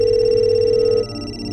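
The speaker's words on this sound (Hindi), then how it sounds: "लेकिन फोन तो आपके रूम में बज रहा है।" A telephone rings with a steady electronic tone inside a room. It sounds clearly for about a second, then cuts off.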